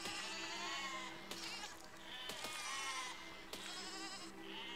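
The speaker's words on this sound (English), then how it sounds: "I always feel bad for sheep in this game." Several sheep bleat in overlapping, wavering cries in the video game Besiege, fairly close and continuous, with brief clanks between the calls.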